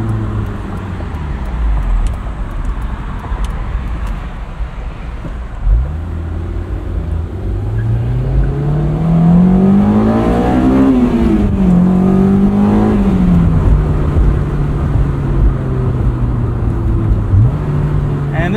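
A 2003 Honda S2000 engine drones inside the cabin, then revs climb through the gears and settle back, loud and close throughout.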